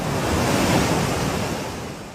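A swollen river in flood in Poonch, Jammu and Kashmir, roars with churning waves in a loud, steady, unbroken rush close by.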